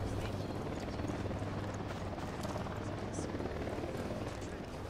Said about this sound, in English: We got a chopper coming.